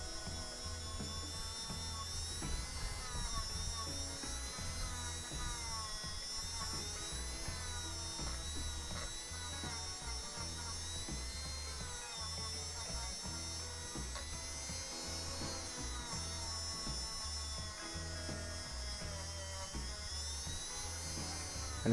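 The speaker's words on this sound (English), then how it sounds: "the usual spinning wire brush treatment with the fake Dremel and spinning wire brush." Fake Dremel rotary tool spinning a wire brush to clean a Corgi Hillman Imp (251) die-cast model before powder coating, a steady high-pitched whine with scratchy grinding, continuous and fairly faint.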